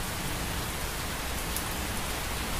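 Steady rain falls in a dense, even patter of drops, close and continuous with no pauses, and no voices present.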